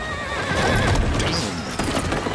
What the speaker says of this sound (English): Yeah, the horse is even running too.